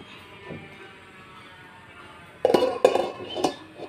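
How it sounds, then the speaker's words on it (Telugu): A metal lid goes onto a pan of chicken curry: after a quiet stretch, a few close, sharp clanks and rattles of metal on metal cluster near the end, with no speech. "దీనిపైన ఒక మూత పెట్టేసుకుందామండి"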